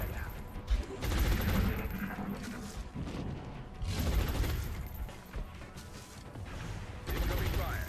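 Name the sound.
gunfire in the video game XCOM: Long War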